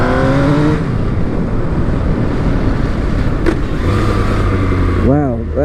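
MV Agusta Brutale 800 motorcycle engine pulling hard and loud up through the gears, the pitch climbing steadily before a quick shift and another rising surge, with a wind-buffeted, close roar throughout.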